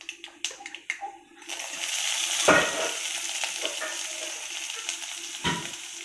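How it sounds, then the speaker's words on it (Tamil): Curry leaves, onion and green chili hit hot oil already popping with mustard seeds and urad dal, raising a sudden loud, steady sizzle that follows a few sharp crackles and continues with occasional spatters. "கருவேப்பிலை, வெங்காயம், பச்சை மிளகாய் அதை போட்டு தாளிக்க போகிறோம்."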